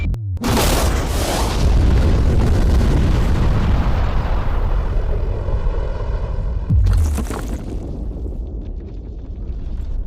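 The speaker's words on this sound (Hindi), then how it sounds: "लेकिन ये एक असली धमाका है" A huge blast of bombs set off around a safe erupts with a deep booming roar that rolls on for several seconds, followed by a second thudding burst before the rumble fades to quieter debris and echo.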